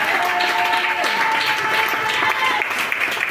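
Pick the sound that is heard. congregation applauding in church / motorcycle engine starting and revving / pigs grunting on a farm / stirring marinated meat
congregation applauding in church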